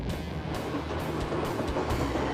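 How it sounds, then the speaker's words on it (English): Train rolling along a river through forested valleys in Alaska, a steady broad rumble with a continuous rushing noise and no distinct clicks, close and constant throughout. "Traveling in this train along the river and along these forests"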